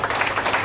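Audience applause at a speech by India's High Commissioner to Singapore, a short burst of steady, dense clapping from a crowd that fills the moment evenly.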